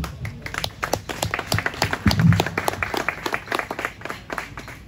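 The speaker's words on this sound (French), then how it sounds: "frère Joseph Déodat Domaine, que je demande d'applaudir." Applause at a lodge ceremony marking the feast of Saint John the Baptist, with many hands clapping steadily for about five seconds and a brief louder swell midway, a low voice faint beneath.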